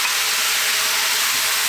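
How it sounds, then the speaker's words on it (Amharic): Chopped onions fry in a pan for an Ethiopian fish stew, giving a steady, close sizzle and hiss with no talking. "ሽንኩርታችንን እንጠብሳለን።"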